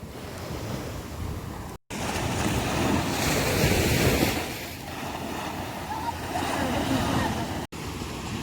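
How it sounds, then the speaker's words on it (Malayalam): Sea waves washing ashore at Cherai Beach at night, a broad surging roar that swells and recedes with wind across the microphone, fairly close, with brief cuts and faint voices in the background. "അപ്പോൾ നമ്മൾ കുറച്ച് നേരം ഇവിടെ ഇരുന്ന് കടൽ കാണും."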